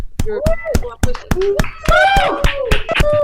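Sharp claps ring out in a quick, uneven series at an awards ceremony, welcoming Michelle Miller, while a voice keeps talking over them.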